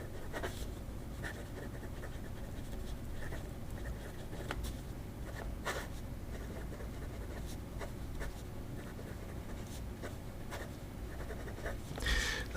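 A Hongdian D6 fountain pen writes on paper, its nib making a steady soft scratching and rustling with small taps from strokes, close up and alone for the whole stretch.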